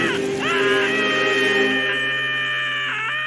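A cartoon man lets out a sustained scream of anguish after acid is thrown in his face, a loud wavering cry with pitch swoops at the start and end.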